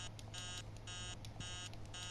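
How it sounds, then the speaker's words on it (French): An alarm goes off in the horror video game Emily Wants to Play 2, sounding as faint, regularly repeating bursts of electronic beeping with short gaps between them. "Ah si c'est l'alarme."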